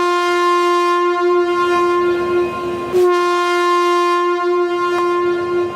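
A passenger train in Eid holiday travel sounds a loud, sustained horn blast with a brief jolt in the middle, over the rumble of the train in motion.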